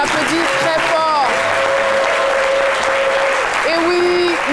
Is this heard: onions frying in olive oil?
no